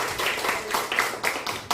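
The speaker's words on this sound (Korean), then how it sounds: "박수 한번 부탁드리겠습니다." A brief burst of clapping from a church congregation, soft and somewhat distant, with irregular overlapping claps across under two seconds.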